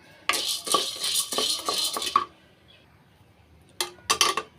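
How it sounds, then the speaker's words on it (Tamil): Roasted gram (pottukadalai) rattles and scrapes in a dry pan as it is stirred, a close, loud clattering run for about two seconds, then a pause and two more short bursts. "பொட்டுக்கடலை வந்து லைட்டாக வறுத்தாலே போதும்"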